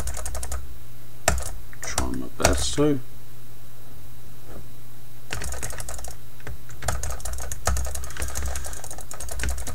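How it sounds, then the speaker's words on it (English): Typing on a sticky computer keyboard during Diablo 3 gameplay, bursts of rapid close key clicks with pauses between, over a low steady hum, with someone talking briefly. "Keyboard's getting a bit sticky on the keys at the moment"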